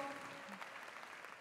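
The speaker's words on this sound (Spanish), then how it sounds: "Denle un aplauso, mire a lo técnico allá atrás." Applause from a church conference audience greeting the technical crew, a broad steady wash of clapping with a brief tonal sound early on and a faint voice mixed in.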